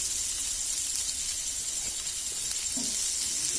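Sliced small onions, green chili, ginger and garlic sizzling in a pan, a steady loud hiss that holds constant throughout, with no voices.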